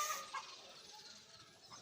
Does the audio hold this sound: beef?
no